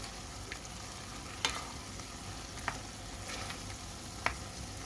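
Beef frying with chili and tomato sizzles quietly in a pan, a soft steady hiss broken by a few sharp clicks and scrapes of the stirring utensil.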